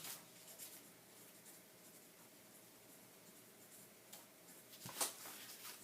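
Pen writing the word Renaissance on a scrap of paper, faint scratchy strokes in short bursts with small taps, very quiet and close, no talk.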